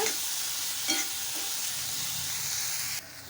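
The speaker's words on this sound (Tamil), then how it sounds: "இப்போ இது எல்லாத்தையும் சேர்த்துட்டு நல்லா வதக்கிக்கோங்க" Carrot and green chillies sauté in a hot pan, a steady bright sizzle with a few scraping stirs near the start before the frying suddenly drops away at the end.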